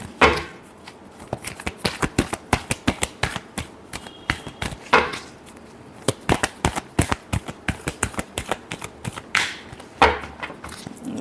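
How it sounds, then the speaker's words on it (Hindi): Tarot cards are shuffled by hand in a quick series of crisp riffling slaps and flicks, close and steady, with a few louder bursts spaced through the passage. "last shuffle"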